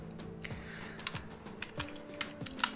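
Rapid, uneven keystrokes as code is typed on a computer keyboard, close and fairly quiet, with no voices.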